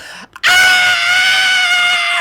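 A person imitates passengers screaming on a plane in turbulence: a single loud, sustained, high scream right at the microphone, following a brief murmur, during a podcast conversation.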